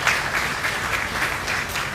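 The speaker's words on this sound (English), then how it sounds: "Let's give him a round of applause." An audience applauds at an FFA awards show at the Minnesota State Fair: dense, sustained clapping from many hands, even and continuous throughout, fairly loud and close, with no voices rising above it.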